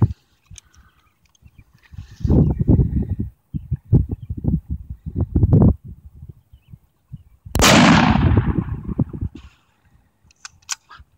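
Sharp, loud gunshots from a 22-250 rifle fired outdoors, several separate cracks spaced a few seconds apart, the strongest one ringing out with a long decaying echo.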